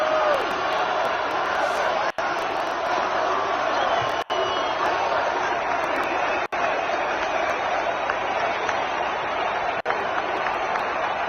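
A large crowd at a Donald Trump appearance in South Carolina cheers and applauds in a continuous roar that holds steady throughout, heard as a distant, compressed wash of noise.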